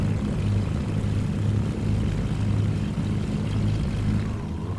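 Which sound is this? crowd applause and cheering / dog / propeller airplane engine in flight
propeller airplane engine in flight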